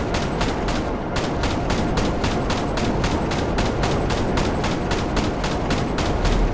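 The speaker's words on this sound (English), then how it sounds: "an Oppressor Mark II with the explosive cannons is really a good way to go." Rapid, steady bursts of explosive cannon fire from an Oppressor Mark II hoverbike in GTA Online, a loud, continuous rhythmic barrage of evenly spaced blasts with no voices over it.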